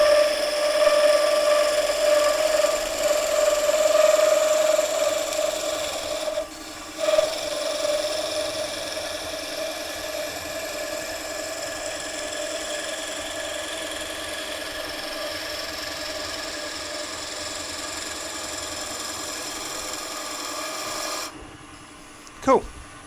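Wood turning on a lathe, a cutting tool bringing the cut up short of the tailstock centre point: a steady, close rasping hum with a high whine, pausing briefly midway and cutting off near the end.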